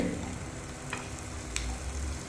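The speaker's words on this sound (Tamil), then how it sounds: "வெள்ளைப்பூடு வந்து நல்லா வேக ஆரம்பிச்சிருச்சு." Garlic frying in a pan for butter garlic prawn masala gives a quiet, continuous sizzle, with two brief sharper crackles standing out.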